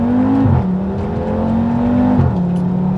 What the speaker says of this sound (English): Listen to those upshift noises. The sound of that 5-cylinder is glorious.